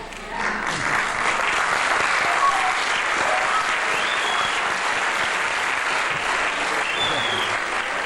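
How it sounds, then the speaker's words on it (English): Sustained audience applause at a university lecture, a dense even wash of many hands clapping that holds steady and loud throughout, with faint voices mixed in. "We're clapping for ourselves, thank you."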